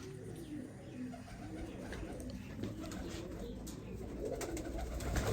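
Isa Khel pigeons coo softly and steadily against a busy background of low rumble and faint chatter, with no clear single call standing out.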